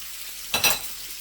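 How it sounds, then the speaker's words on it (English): A short burst of sizzling and crackling, like bacon frying in a hot pan, rising suddenly and fading within a moment. "I just flipped my bacon over."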